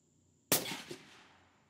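A single sharp rifle shot fired with custom Pendleton ammunition, loud crack followed by a brief echoing decay outdoors.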